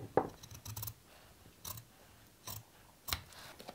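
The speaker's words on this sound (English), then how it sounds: "So I'm going to go beyond that marking that I just did by a quarter of an" Scissors cut through clear vinyl for a sewn storage pouch in four crisp, separate snips, close and fairly quiet, with no talking.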